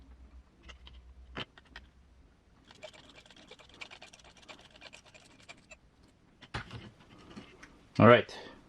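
M3 button head screws being backed out of an RC car chassis cross member and leaf spring perch, small scattered clicks and scratchy driver scraping at close range, with a sharper knock toward the end.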